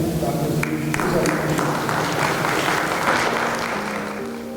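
An audience at the Caritas Pakistan 60th-anniversary annual convention applauds, steady moderate clapping filling the hall while a voice carries on over it.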